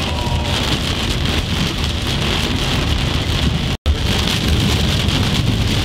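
Steady heavy rain pours down with a constant roar, driven by strong gusting wind in Tornado Alley, USA, loud and close throughout with a brief cut near the end.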